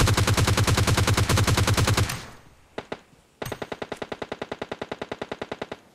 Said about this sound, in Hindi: अब इस बीच तुमने सुना हो पीछे से भी गनशॉट्स की आवाज आ रही थी